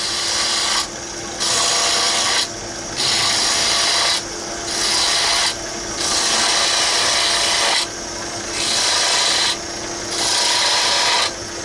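A lathe turns a wood wine stopper blank while a tool cuts away material at the bottom, loud rasping bursts in a steady on-off rhythm over a constant motor hum, close up, with no talking.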